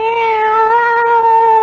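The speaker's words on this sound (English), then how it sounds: "It's a cat fight." Two cats fighting in a kitchen, with a loud, sustained, wavering yowl held steadily and close for nearly two seconds and no talk over it.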